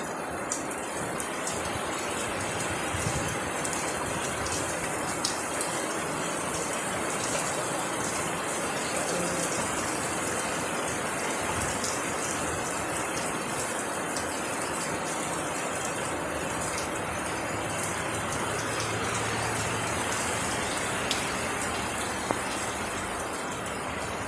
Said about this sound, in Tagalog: rains here in Oman for the first time in 2022